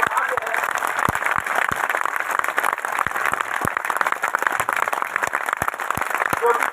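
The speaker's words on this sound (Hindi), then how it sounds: "आप लोग के सम्मान में जोरदार ताली होनी चाहिए।" An audience at a festival event claps loudly and steadily, a dense crackle of many hands sustained throughout, with a voice carrying over the applause.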